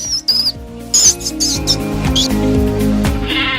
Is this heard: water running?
no